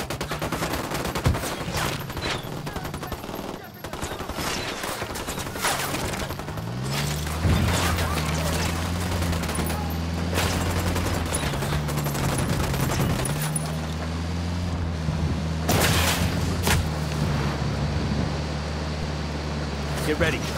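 Gunfire in the video game Ghost Recon Wildlands, sharp shots and bursts cracking over a steady engine-like drone, with voices talking throughout.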